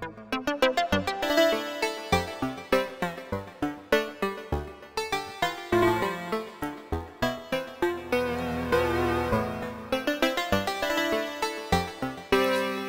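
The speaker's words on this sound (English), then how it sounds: "the sequence I programmed to go with that sounds like this" A programmed sequence plays on a Roland S-1 synthesizer, a steady run of punchy rhythmic notes with shifting pitch, loud and clear with no voices.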